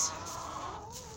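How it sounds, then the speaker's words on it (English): Chickens cluck softly in a farm coop, a faint low murmur of hens close by with a brief higher call at the start and no talk over them. "So that's the chicken."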